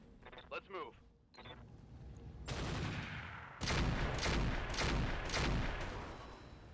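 Weapons fire against a mech in Roguetech, first a few faint clicks and mechanical sounds, then dense, loud bursts of repeated gunfire and cannon blasts that roll on for several seconds.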